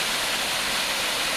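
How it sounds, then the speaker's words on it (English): A waterfall spills over a mill pond dam, a dense, steady roar of rushing water heard from nearby, unbroken for the whole moment. "This is a rather nice view of the waterfall created by the dam to the mill pond."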